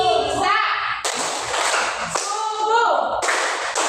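Children clap in rhythm during a Tepuk Salat clapping chant, sharp hand claps in short bursts mixed with young voices chanting along.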